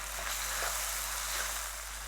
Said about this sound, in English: Add half teaspoon of garlic and 1 teaspoon of ginger,